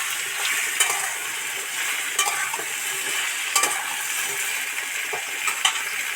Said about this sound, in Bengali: এবার এই আলু কুমড়ো টুকরোটার মধ্যে দিয়ে দিচ্ছি